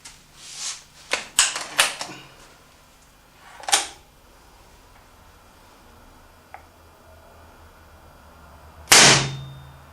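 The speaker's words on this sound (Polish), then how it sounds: "Zapraszam do próbnego strzału, który uda mi się za chwilę" Sharp mechanical clicks and snaps of an IZh-38 Baikal spring air rifle, fitted with a new spring, then a single louder test-shot crack near the end, close by with quiet gaps between.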